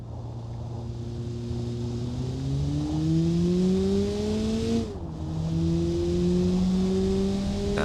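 A small four-seat car in the Automation driving game accelerates hard, its engine whine climbing through the gears with a brief dip at a shift before rising again, loud and steady with no talking.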